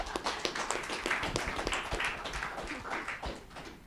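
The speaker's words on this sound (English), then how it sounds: "Could we get a round of applause for them" Gamers at a press conference receive a round of applause from a small audience, with scattered, uneven claps filling the room for a few seconds at moderate loudness.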